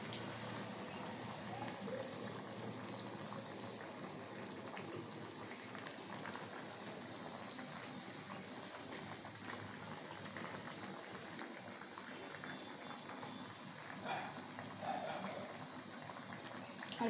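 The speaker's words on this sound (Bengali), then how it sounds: "এটা হতে কতক্ষণ না তো ফুটবে, একটু ঘন হয়ে আসবে, আঠা আঠা মতো" Raw mango jelly syrup simmers in a pot as sugar dissolves and thickens, giving a steady, low, continuous bubbling hiss throughout with no one speaking.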